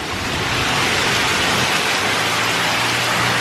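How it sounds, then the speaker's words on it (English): Heavy rain pours steadily during a summer storm, a dense, continuous hiss of downpour close by with no voices over it. "that is some bad rain."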